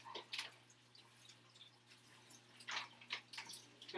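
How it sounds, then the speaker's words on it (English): Thawed water from a package of frozen shrimp is poured out in a kitchen, making faint, intermittent trickling and dripping splashes that come in short bursts close by. "I'm going to open up the shrimp real quick and empty the shrimp liquid out."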